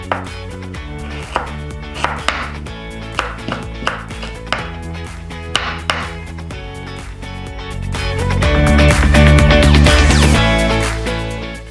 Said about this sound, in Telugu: ఎంత అల్లం పడుతుంది ఎంత బీట్రూట్ పడుతుంది క్యారెట్ వేసుకోవచ్చు మొత్తం కట్ చేసుకుందాం